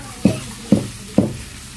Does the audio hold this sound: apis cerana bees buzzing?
no